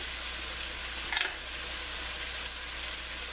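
Steak browning in a pan for Swiss steak gives a steady, quiet sizzle, with a brief stir or shift of the meat near the middle and no voices.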